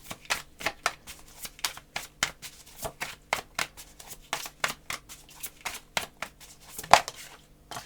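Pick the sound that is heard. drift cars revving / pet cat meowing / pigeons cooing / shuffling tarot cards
shuffling tarot cards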